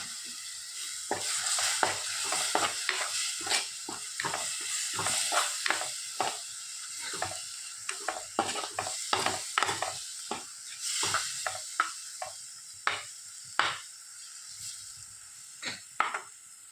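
Tomato and tamarind water go into a pan for Kerala-style rasam and get stirred, with steady sizzling and repeated close scraping and stirring strokes, loud at first and thinning to sporadic clinks toward the end; no talk.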